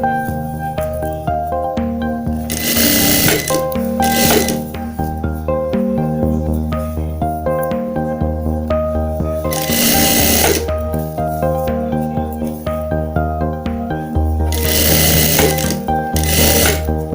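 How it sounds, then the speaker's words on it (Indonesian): Sewing machine stitching fabric for a cardigan, running in several bursts over steady background music with no talking. "Kita sambung dan kita jahit."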